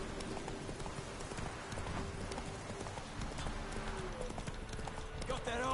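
Roach the horse trots in The Witcher 3, its rhythmic clip-clop hoofbeats running steadily under game ambience, while voices talk over it.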